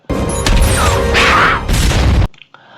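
A loud explosion from the action film The Marine 2: a dense roaring blast with crashing, rumbling debris lasting about two seconds, then cutting abruptly to near silence with faint trailing noise.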